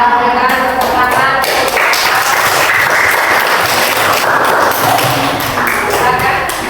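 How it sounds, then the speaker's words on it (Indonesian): Schoolchildren clapping together in a classroom during an Islamic religious education lesson, a busy steady round of hand claps close by with a few louder taps and voices mixed in. "Kita berikan tepuk tangan."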